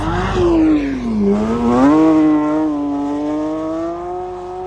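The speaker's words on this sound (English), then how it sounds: "V8 supercharged E55" A supercharged V8 in a Mercedes-AMG E55, in poor condition, revs loudly and close by, the pitch swelling, dipping, then climbing again before settling into a steady high idle-like drone with no talk.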